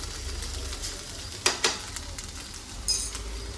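Food frying on both sides in a pan at home, a soft steady sizzle with a few brief clinks of a utensil against the pan, close and alone.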